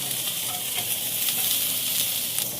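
Bitter gourd (ampalaya) fries in a new pan, giving a steady, bright sizzle with faint crackles that stays close and even throughout, with no talking.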